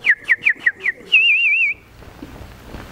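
A person whistles an imitation of bird chirping: five quick rising chirps in a row, then a sustained warbling trill, all up close and alone, followed by a soft low murmur.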